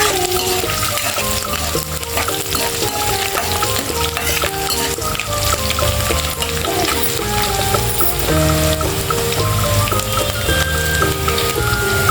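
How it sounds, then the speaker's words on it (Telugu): Mustard seeds, cumin and chopped ingredients fry in a pan for Andhra-style ladies finger coconut fry, a steady loud sizzle with crackling seed pops and stirring throughout, no talk. "ఆవాలు, కట్ చేసి పెట్టుకుని వేయించండి."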